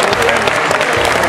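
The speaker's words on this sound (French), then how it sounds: "on l'applaudit bien fort" Audience applause at the announcement of results for a children's beauty pageant, loud continuous clapping from a crowd that runs throughout, with an announcer's voice faintly mixed in.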